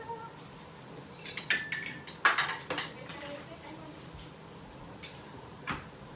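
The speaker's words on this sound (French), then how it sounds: "Moi, ben, je suis encore dans ma vaisselle" Dishes and cutlery are washed by hand at a home sink, with scattered bright clinks and clatters of plates and utensils over a quiet background.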